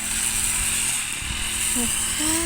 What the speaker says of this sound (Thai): เครื่องตัดหญ้ามาจากฝั่งไทยเลยเนาะ